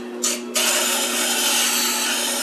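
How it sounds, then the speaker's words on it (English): A Tormek wet sharpening machine grinds a plane iron, a loud, steady abrasive hiss with a low motor hum, briefly changing pitch at the start as the steel meets the stone. "watch how fast and efficient that machine takes down this iron"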